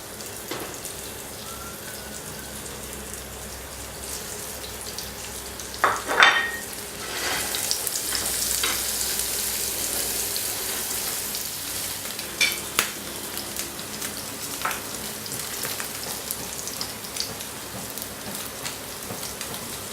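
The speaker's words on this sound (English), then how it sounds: "fry it around 45 seconds" Coriander-crusted halloumi fries in a pan over medium heat, a steady close sizzle with a brief clatter early on and scattered pops, no voices.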